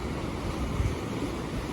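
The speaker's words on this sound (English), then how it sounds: "Waves lapping over the top." Waves at Santa Catalina Beach lap over the top of a beach wall at a construction site, a steady close rushing wash mixed with gusty wind noise and no voices.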